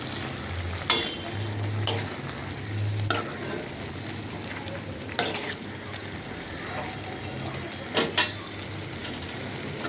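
A spoon stirs chilli flakes into food frying in a pan, the steady soft sizzle broken by about seven sharp metallic clinks and scrapes at uneven intervals, close and clear with no talking.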